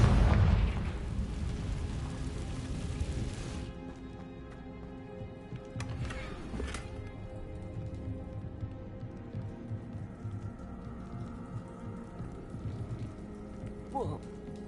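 A Confringo blasting spell explosion in Hogwarts Legacy, a loud burst at the start fading into a long, quieter rumbling tail with scattered crackles and a faint tonal ring.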